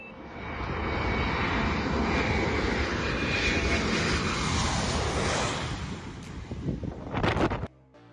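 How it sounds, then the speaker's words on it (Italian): Wizz Air passenger jet passes low over a beach on Skiathos, Greece, its engine roar swelling loud and steady with wind buffeting for several seconds before fading and cutting off. "un aereo passeggeri Wizz Air è passato a pochi metri di quota sopra una spiaggia"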